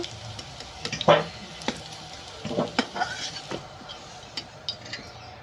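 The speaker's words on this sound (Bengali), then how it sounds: "এবার আমি আলুটা তুলে নেব।" Fried potatoes lifted from hot oil with a spatula while cooking a jackfruit-and-prawn curry, giving a soft ongoing sizzle with several clinking, scraping utensil strokes against the pan.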